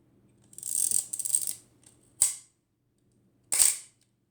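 Shutter release of an Ihagee Exakta VX500 film camera with a Meyer Domiplan 50mm f/2.8 lens: a brief winding rasp, then two crisp, close mechanical clicks spaced about a second and a half apart in a quiet room.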